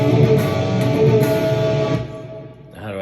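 Electric guitar riff built from scale notes, a full, sustained run of ringing notes for about two seconds that thins and fades, followed by a brief new phrase.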